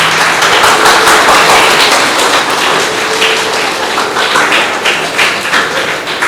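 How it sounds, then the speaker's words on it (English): Loud, dense applause from students and parents at a school camp prize ceremony in Chennai, a sustained wash of many hands clapping for over six seconds with no clear talk. "Give a big round of applause."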